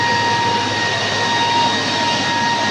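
A variable frequency drive raw water booster pump runs with a steady, loud mechanical roar and a constant high electrical whine, unchanging throughout.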